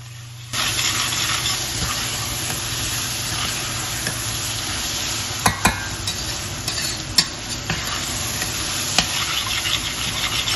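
Lamb pieces and lightly caramelized onions sizzle and fry steadily in a pan for an Indian restaurant-style vindaloo, a continuous close hiss broken by a few sharp clinks and stirring scrapes.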